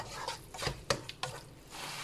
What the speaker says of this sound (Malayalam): മസാല നന്നായിട്ടൊന്ന് വഴറ്റിയെടുക്കാവുന്നൂടെ